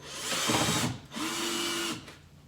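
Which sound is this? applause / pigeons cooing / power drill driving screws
power drill driving screws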